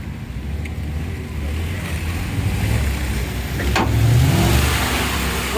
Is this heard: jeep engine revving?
yes